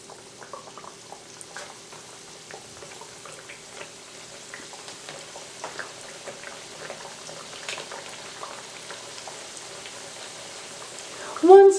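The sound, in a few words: bread dough frying in hot oil in a skillet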